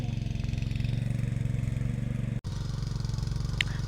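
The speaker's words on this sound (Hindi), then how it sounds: "यहाँ पे लगा रहे हैं मेरे पापा ट्रैक्टर खेत में" A tractor engine runs in a farm field with a low, rhythmic diesel throb that stays steady and close, broken by one brief dropout.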